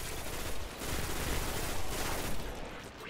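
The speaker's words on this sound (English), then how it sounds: "Who's shooting me?" Rapid bursts of gunfire aimed at the player in a Minecraft-style game, dense and continuous with loud rattling volleys.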